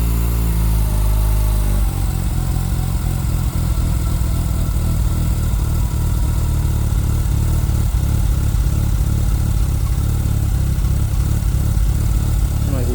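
A Mazda RX-7 Turbo II rotary engine idles after a cold start from winter storage, a steady loud drone with a slight change in pitch near the start and small uneven pulses throughout, with no one talking.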